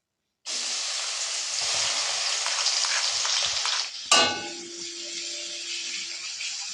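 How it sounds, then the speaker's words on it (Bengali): Onions frying and being stirred in hot spiced oil for a rohu fish korma, a dense steady sizzle from the pan with a sharp clatter of stirring partway through, then a continuing crackle with no talk. "এবার পেঁয়াজগুলোকে আমি নেড়ে চেড়ে ভেজে নেব"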